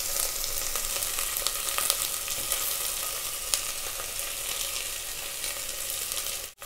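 Potato pieces frying in a pan while vegetable fried rice is made, giving a dense, even sizzle close by that runs steadily and cuts off abruptly at the end.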